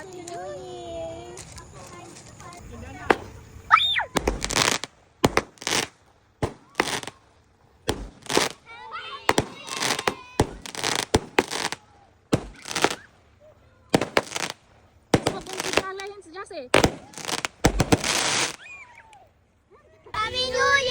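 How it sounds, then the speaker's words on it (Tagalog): New Year fireworks bang repeatedly at irregular intervals, some loud and close, with people talking and cheering between the explosions. "magpapa-fireworks din ako dito sa aming pinapagawang bahay"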